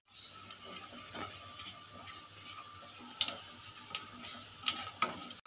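Panch phoron and two bay leaves sizzle in hot oil, a steady close hiss with faint crackles and a few sharp metallic clicks near the end.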